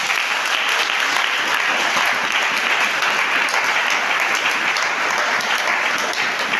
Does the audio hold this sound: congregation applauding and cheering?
yes